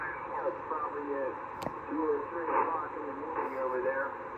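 A Yaesu FT-890 transceiver receives on upper sideband, giving distant-sounding radio voices with a thin, band-limited tone and a brief click partway through over a low hiss.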